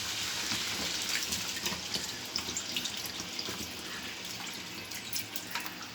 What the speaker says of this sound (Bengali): আমি পানি দিয়ে দেবো পরিমাণ মতো।